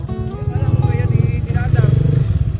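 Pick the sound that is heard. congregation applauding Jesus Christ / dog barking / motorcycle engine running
motorcycle engine running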